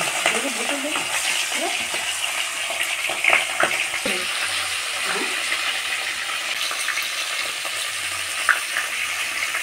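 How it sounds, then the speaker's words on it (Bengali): Fish head frying in hot oil in a home kitchen pan, a soft steady sizzle with occasional stirring clinks and scrapes. "মাছের মাথাটা তেলে দিলাম। দিয়ে মাথাটা ভেজে"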